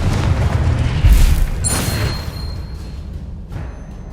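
A Confringo spell detonates in Hogwarts Legacy on PS5 with a loud, deep booming blast that rumbles and fades over several seconds, followed by faint magical chimes and game ambience, with no voices.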